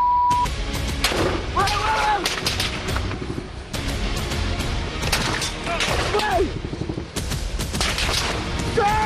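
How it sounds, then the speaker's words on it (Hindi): Rapid bursts of gunfire crackle repeatedly over several seconds near Kyiv, loud and close, with shouting voices and engine noise mixed in, heard from journalists' car. "अचानक गोलियां चलने लगी।"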